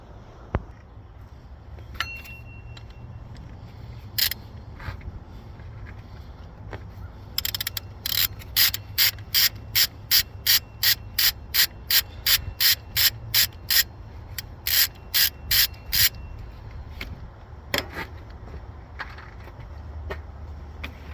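A hand ratchet backs out a water pump bolt on a 1988 Buick Electra Park Avenue's 3800 V6, close and crisp: a few scattered clicks, then long rapid runs of evenly spaced ratcheting clicks over a low garage hum, with no talking.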